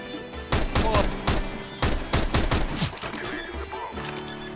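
Rapid bursts of gunfire from the video game CS:GO, several clustered shots in quick succession at moderate loudness over a steady game background.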